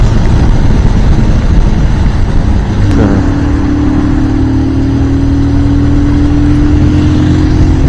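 A Bajaj Pulsar 220 motorcycle runs at high speed on an open road, its engine droning loud and steady with a sustained whine and heavy wind rush, and no one speaks.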